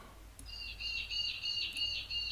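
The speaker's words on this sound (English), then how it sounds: "Sounds like a bird" A bird gives a faint, high, fluttering chirp that repeats in quick trills over a quiet background hiss.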